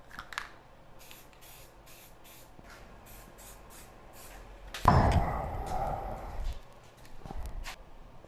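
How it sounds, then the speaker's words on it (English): A few faint taps, then a sudden loud hiss of an aerosol can spraying anti-rust coating onto turbo welds for about two seconds, close by, followed by a brief quieter burst. "let's spray this with some stuff so those turbo welds don't rust"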